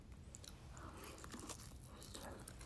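Braised short ribs (galbi-jjim) being eaten, heard as continuous close chewing and soft biting against a steady background hum, with no talking.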